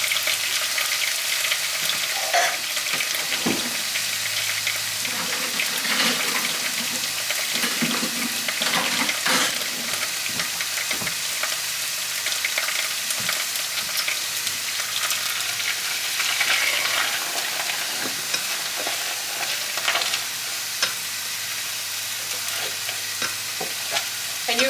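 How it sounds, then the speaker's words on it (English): Refried beans fry and bubble in hot oil, a steady loud sizzle with scraping and stirring over it for the whole stretch, no one speaking. "You want them super liquidy. Let them fry in that oil."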